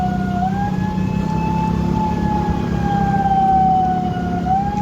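An ambulance carrying a body through traffic sounds its siren in a steady, loud wail that rises and falls slowly over a rumbling vehicle engine, heard from close by with no talk.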